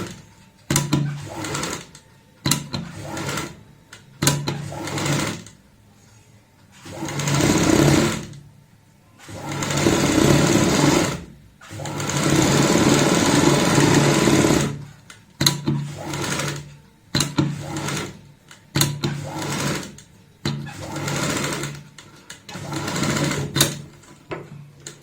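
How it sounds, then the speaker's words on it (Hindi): Sewing machine stitching a kurta collar strip, running in repeated bursts of steady whirring separated by short pauses, loud and close with no talk. "सिलाई लगाएंगे।"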